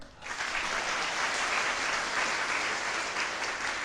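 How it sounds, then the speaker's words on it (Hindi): An audience at a religious gathering claps continuously, dense even applause that starts abruptly and holds at steady loudness to the end. "तो इसलिए यदि अच्छा लगाओ तो ताली बजाए।"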